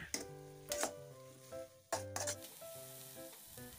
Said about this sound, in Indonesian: Dan lanjut ini saya tumis sampai benar-benar tanek untuk bumbunya.